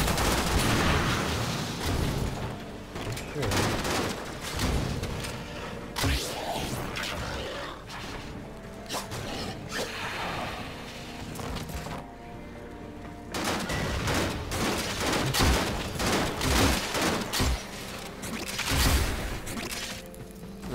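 Warframe gunfire: dense rapid volleys of shots and impacts in sustained bursts, loud and close, broken by a short lull before the firing resumes.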